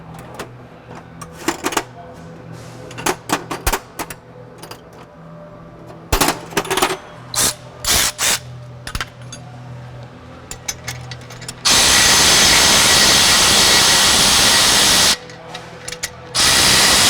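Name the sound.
snugging exhaust clamp bolts on a Maserati Levante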